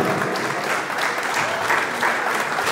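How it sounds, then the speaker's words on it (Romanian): An audience applauds steadily and fairly loudly at a parish cultural evening in Romania, a dense wash of many hands clapping without pause. "încă o dată aplauze"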